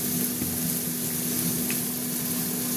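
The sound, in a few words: spices frying in a pan for a potol and masoor dal dish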